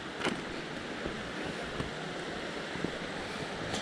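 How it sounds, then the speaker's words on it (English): A mountain stream flows and rolls along the trail to Abrams Falls, a steady broadband rush of water heard outdoors with light wind noise across the microphone. "The water's rolling."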